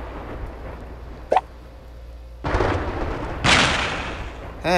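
Thunderstorm power-up striking racers in the Fun Run 3 game: a sharp crack, then two heavy booming thunder blasts rumbling into each other, loud and close, with a brief chirpy effect at the end.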